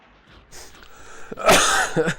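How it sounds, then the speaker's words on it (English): A single harsh cough close into a microphone during a live game stream, preceded by a brief breathy throat sound, loud and alone. "Sorry for coughing into the microphone"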